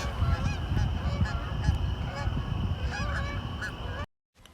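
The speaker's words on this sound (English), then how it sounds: "Nightfall, you hear the geese" A flock of geese honks repeatedly at nightfall, heard from a boat, over a low rumbling background, the overlapping calls continuing until the sound cuts off abruptly.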